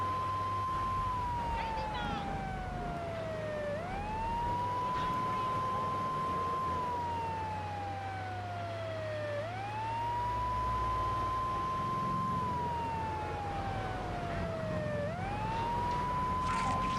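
A police car siren in the video game Grand Theft Auto III wails in slow rising and falling sweeps over a low engine rumble. It repeats steadily and sounds close and continuous.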